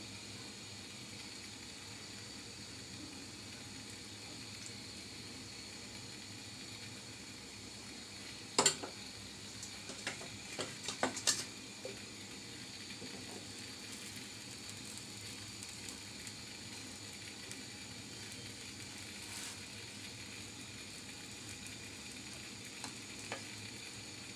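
Egg paratha fries in oil in a pan, a steady soft sizzle throughout, broken by a few sharp clinks and taps of a utensil against the pan in the middle, with no one speaking.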